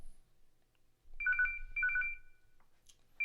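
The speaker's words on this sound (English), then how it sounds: "my phone is ringing" A telephone rings in repeated short electronic trills, two clear bursts followed by the start of a third, clean and moderately loud with no talking.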